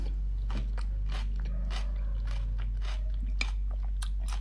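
Someone eats vegetables and egg with a creamy milky dressing, producing close, soft crunching bites and steady chewing in irregular bursts, quiet and without talk.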